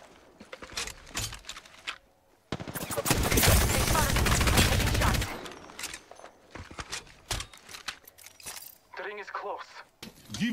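Rapid automatic gunfire from an Apex Legends match erupts in a dense, loud burst of roughly three seconds. Sparse shots, clicks and in-game voice callouts come before and after it.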